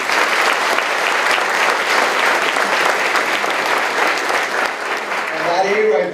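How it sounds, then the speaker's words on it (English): An audience at a McAllen ISD school district breakfast breaks into sustained, loud applause, with many hands clapping together steadily and the clapping beginning to fade near the end. "Let's give ourselves a round of applause for that."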